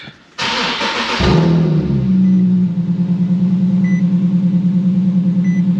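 An Infiniti G37 engine cranks with a loud starter burst, then catches and settles into a steady, close idle hum with faint periodic beeps, the battery's negative terminal just reconnected.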